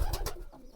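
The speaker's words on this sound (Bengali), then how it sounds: "এই যে দেখেন গাইস সব কবুতর ঠিক আছে" Pigeons kept in a household loft give a brief, soft cooing close by, a couple of low throaty pulses with no talk.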